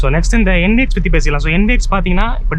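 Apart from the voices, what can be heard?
No distinct noise like a dog, phone or traffic.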